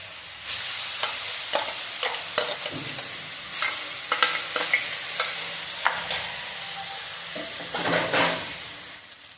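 Onion, ginger and garlic paste fry in oil with panch phoron and dried chillies, a close sizzle punctuated by repeated spatula scrapes and stirring strokes for a fish curry.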